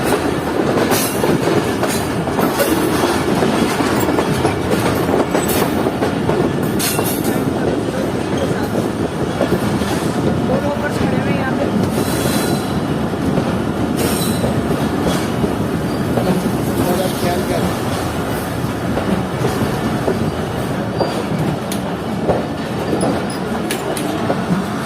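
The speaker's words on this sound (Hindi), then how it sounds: "ट्रेन अप्रोच कर रही है कोटरी जंक्शन रेलवे स्टेशन पर।" A passenger train pulls into Kotri Junction railway station, with a loud, steady rumble and rhythmic clatter of wheels over rail joints that carries on throughout, with occasional squeals and no talk.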